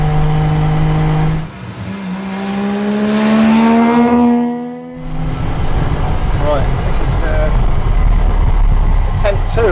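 Small 1000cc German estate car with a low-slung, smoky engine pulling in gear on country roads, loud and close, the engine note climbing under load, dipping briefly, then rising again alongside a voice talking.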